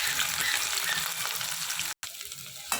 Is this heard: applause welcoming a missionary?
no